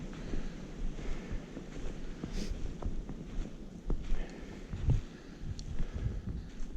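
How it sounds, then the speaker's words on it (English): Outdoor wind buffets the microphone in an open hunting area, a steady rumbling gust with soft surging swells and a few faint rustles, continuous and moderately quiet. "That wind is great for sound deadening for us."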